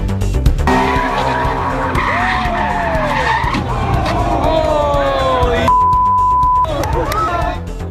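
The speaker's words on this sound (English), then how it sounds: "A Mustang nearly running into that crowd of kids after crashing into the curb." A Ford Mustang skids and crashes into a curb at a car show, loud sliding and squealing tires with engine noise under a crowd's shouts and voices.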